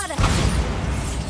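One Bombarda blasting spell explodes in Hogwarts Legacy, a sudden close boom hitting after a brief quiet lead-in and then a sustained rumbling decay.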